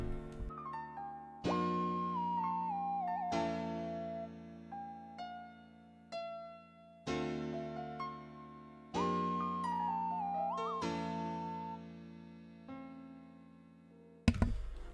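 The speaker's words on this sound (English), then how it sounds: "Alright, so I just added this nice sounding lead." Jazzy synth lead looping a simple one-bar pattern in a plugg beat, soft bell-like chords with a gliding melodic line on top, repeating every couple of seconds, quiet, with a sharp hit at the end.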